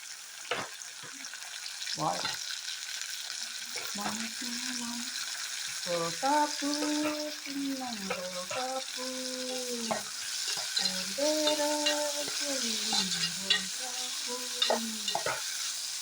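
Onions and tomatoes fry in a pan with curry leaves and a little salt, with a continuous soft sizzle under repeated scraping stirs and squeaky, tonal utensil sounds throughout.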